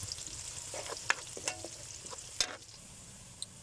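Spices and pork sauté in a wok with a soft, continuous sizzle, broken by a few sharp clinks and scrapes of a spatula against the metal.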